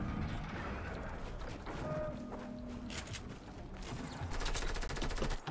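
Rapid automatic gunfire bursts in the Fortnite video game, coming in quick repeated rattling volleys toward the end over a steady bed of game noise.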